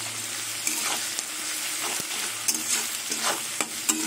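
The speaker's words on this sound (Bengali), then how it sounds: "আমি একটু পেঁয়াজ দিয়ে রসুনটা কষিয়ে নেব" Garlic paste and sliced onion fry in a pan with slit green chillies, a steady close sizzle broken by a few sharp clinks and scrapes as the mixture is stirred.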